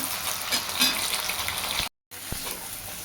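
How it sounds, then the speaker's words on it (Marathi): Whole eggplants roast in a little oil in a pan, giving a steady, close sizzle that cuts out briefly before resuming. "आता आपली ऑलमोस्ट वांगी भाजत आलेली आहेत."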